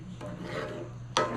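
A pepper grinder rasps briefly in a home kitchen, two short gritty bursts with the second louder, added to a beef stroganoff gravy.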